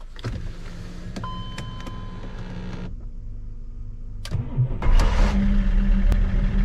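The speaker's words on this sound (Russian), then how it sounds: "Пробрались в BMW и запускаем." A BMW car being started in cold winter weather: whirring electric motor noise, a short pause, then the engine cranks and catches into a steady running idle, recorded close and without speech.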